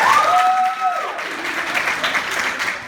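A crowd claps steadily for a few seconds, with a brief whistle near the start cutting above the broad, even patter.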